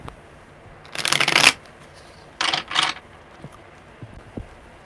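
Tarot cards being shuffled at close range, two distinct riffling bursts, the first longer and louder, followed by a few soft taps, with no one speaking.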